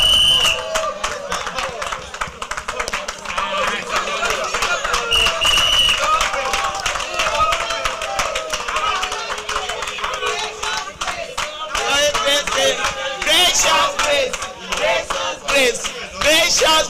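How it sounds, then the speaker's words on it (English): A crowd at a general meeting claps and cheers steadily in a standing ovation, with excited shouts and lively voices mixed in throughout, at a fairly close and even level. "let's give her a standing ovation"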